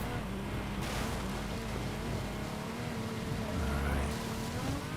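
Ferrari off-road car in a racing video game, its engine droning loud and steady with a shifting pitch as it drives over rough terrain, continuous throughout with no pauses.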